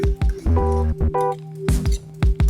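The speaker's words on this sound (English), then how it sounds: "Right into the egg mixture with the potato and onion." Fried potatoes and onions slide wetly into a beaten egg mixture, giving a few close squelching, squishy plops with faint clinks amid quieter gaps.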